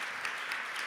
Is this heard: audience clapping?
yes